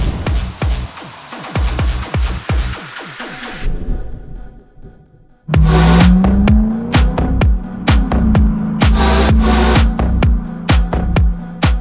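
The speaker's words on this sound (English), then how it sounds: "there's something about a V8 with proper exhaust that is hard to beat" A modified Lexus ISF V8 with an aftermarket exhaust rumbles and revs loudly up close, with crackling pops and a brief quiet gap before a strong surge of acceleration.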